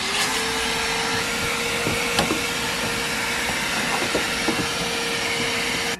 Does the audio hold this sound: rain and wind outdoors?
no